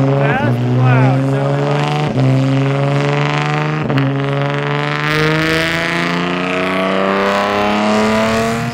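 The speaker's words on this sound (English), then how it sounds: "It's the loudest car here, Jack Haberman." Race car engine at the Watkins Glen circuit during a NASA Northeast event, loud and close, holding a steady drone with harmonic sweeps as revs climb and drop through several gear changes.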